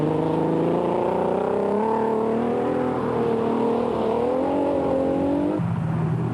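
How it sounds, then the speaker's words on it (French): Off-road racing buggies at a French 24-hour all-terrain race, engines droning and revving continuously, with shifting pitch as they accelerate, loud and close, no voices. "Le début de course est animé par les buggy."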